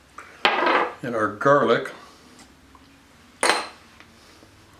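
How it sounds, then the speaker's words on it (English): Chicken is stirred in olive oil in a bowl, with a couple of sharp utensil clinks against the bowl, one early and one later, while someone talks over the first part. "Go ahead and give that a stir"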